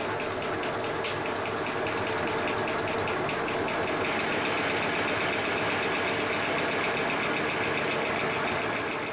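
A 1987 Sweet Pea steam locomotive with its handbrake released, running steadily on compressed air under renovation, giving a continuous close chuffing and hissing mechanical rumble with a faint rhythmic knock, heard alone without talk.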